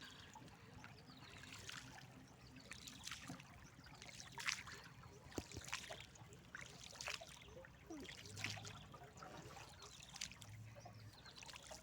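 Water trickling and lapping around a boat on the Mun River, a quiet, irregular run of small splashes and dribbles with occasional stronger sloshes, heard close by with no talk.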